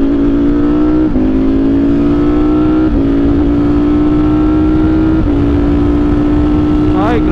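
The V4 engine of a Ducati Streetfighter V4S motorcycle runs loud and close, its tone stepping up through a series of rising pulls, with a sharper rev at the end.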